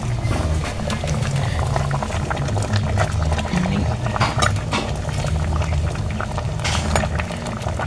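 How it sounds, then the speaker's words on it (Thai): Bamboo shoot curry boiling in a pot, a continuous close bubbling and gurgling with small pops and faint clinks of the pot underneath. "กำลังเดือดเดือด"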